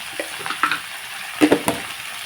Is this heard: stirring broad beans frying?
yes